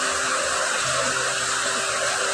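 Panch phoron spices hit hot oil for a stalk (data) curry, giving a loud, dense, continuous sizzle that stays steady and close with no talking over it.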